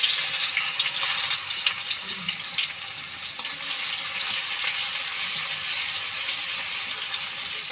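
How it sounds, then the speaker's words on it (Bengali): Onions sizzle and fry in hot oil with sugar in a pan, a steady hissing crackle that stays close and even with a few sharper pops. "তেল গরম হয়ে গেছে, আমি চিনি দিয়ে দিচ্ছি। আমি দিয়ে দিলাম এবার পেঁয়াজ।"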